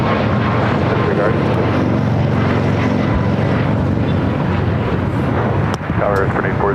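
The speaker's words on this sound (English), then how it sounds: "This is Southwest Airlines 1600 taking off the Houston Hobby on a MAX 8" A Southwest Airlines Boeing 737 MAX 8 takes off from Houston Hobby with a loud, dense, sustained engine roar close by, overlaid with voices and a few brief clicks near the end.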